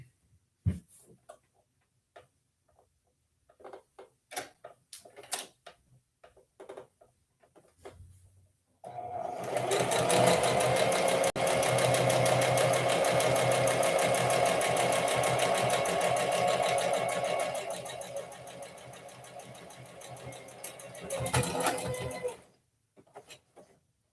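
A sewing machine runs steadily for about fourteen seconds, laying a gold top stitch through fabric. Short scattered handling clicks and taps come before it and a brief burst follows.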